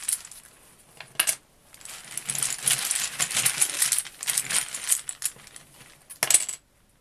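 Small letter tiles are shuffled and drawn for a card reading, giving close, clattering rattles in several bursts with brief pauses and a final sharp clink before silence.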